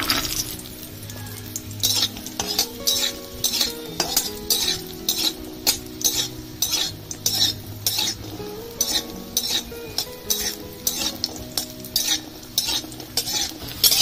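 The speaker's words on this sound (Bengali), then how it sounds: "এখানে আমি ডালের বড়ি নিয়েছি, ভেজে নেবো, ভেজে নিয়ে গুঁড়ো করে নেব।" Lentil dumplings (dal bori) fry in oil in a hot pan while a utensil stirs them in a brisk, repeated rhythm, scraping and clinking against the metal over a constant sizzle. Close and fairly loud, with no speech.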